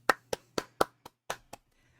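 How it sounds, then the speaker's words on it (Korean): A single person claps hands about seven times in a quick, slightly uneven rhythm, the sharp claps close and distinct against a quiet room with a faint low hum. "박수 치고 넘어가겠습니다."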